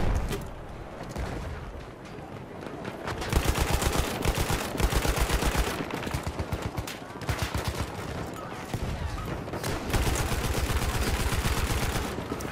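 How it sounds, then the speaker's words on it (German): Gunfire in the online shooter Battlefield 1 crackles in dense bursts of rapid automatic shots, some loud and close, others more distant, with brief lulls between volleys. "Boah, von wo schießt denn der?"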